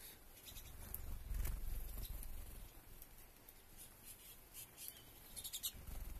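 A flock of pine siskins gives faint, high twittering calls scattered across a soft outdoor background, with light patter and rustling, some calls briefly closer.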